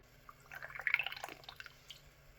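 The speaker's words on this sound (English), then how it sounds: "Then I'm just going to fill it up with water." Water trickling into a small 6.8 Western rifle cartridge case, a quiet close run of bubbly drips and gurgles that swells in the middle and tapers off.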